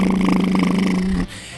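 A voice imitates a droning boat engine starting up, a low steady buzzing hum with a rough pulsing texture that runs for about a second before cutting off abruptly.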